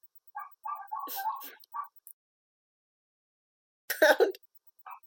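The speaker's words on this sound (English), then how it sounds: "Yeah, those would be my dogs." Little dogs barking and whimpering indoors in short bursts, with a brief quiet gap before another cluster of yips and cries; a voice is heard nearby.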